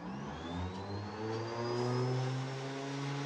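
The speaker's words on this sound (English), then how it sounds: "That's just the starter spinning up, not the engine." Starter on a Stinson L-1 aircraft winding up before engine start: a steady rising whine climbs in pitch over a low mechanical drone, loud and close throughout.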